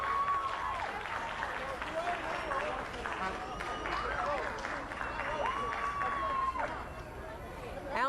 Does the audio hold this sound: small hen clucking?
no